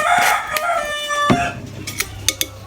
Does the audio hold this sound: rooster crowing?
yes